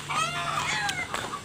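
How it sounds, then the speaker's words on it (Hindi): Roosters crow and cluck close by on a rural road in early morning, with stretched, wavering crowing calls and a second bird joining near the end, no talking. "मुर्गे चिल्ला रहे हैं।"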